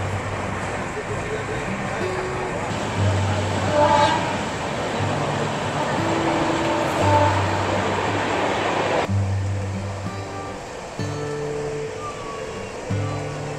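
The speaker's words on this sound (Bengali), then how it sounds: "দারুণ যাচ্ছে ট্রেন, জনশতাব্দী এক্সপ্রেস কিন্তু একটা হাই প্রায়োরিটি ট্রেন" Howrah Patna Janshatabdi Express running at speed makes a continuous loud roar and rumble with rhythmic wheel and carriage noise.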